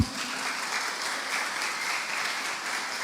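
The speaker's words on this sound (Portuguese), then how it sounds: "Aplaude aí o Senhor." A church congregation applauds together, a steady broad wash of hand clapping filling the hall from start to finish at even strength.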